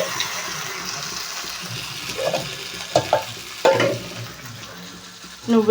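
A spatula stirs and scrapes through stuffed eggplant curry frying in a pan, with a steady sizzle and a few louder clinks of metal.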